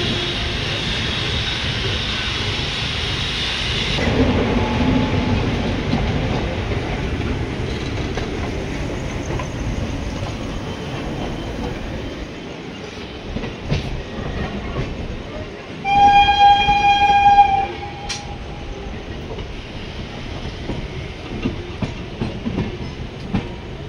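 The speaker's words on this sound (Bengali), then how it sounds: "সামনে হচ্ছে কাটিয়ার হাওড়া এক্সপ্রেস, কির এক্সপ্রেস ঢুকছে" Katihar–Howrah Express train arriving at a station, with steady rolling rumble and rail clatter, and a loud horn blast in the second half standing out over the noise.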